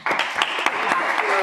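Applause from an online civic tech event audience, a short burst of scattered clapping at steady loudness with a few sharper individual claps standing out.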